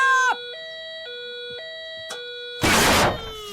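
A faulty milking-time alarm wails, its tone stepping up and down in a siren-like pattern, close and loud, then stops with a burst of noise at the end.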